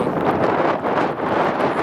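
Strong, steady wind buffets the microphone, a continuous roaring rush with no pauses.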